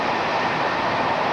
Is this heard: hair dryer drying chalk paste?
no